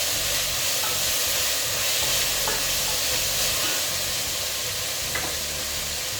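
Browned onions and tomatoes frying in a pan for a Kerala black chana curry, a loud continuous sizzle and hiss with a few light scrapes of stirring, no voices.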